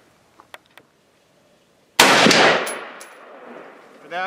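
A single loud .223 rifle shot at a vehicle bulletproofing test setup with plastic panels and AR-500 steel targets, a sharp blast with a long ringing decay, preceded by faint clicks and followed by another burst at the end.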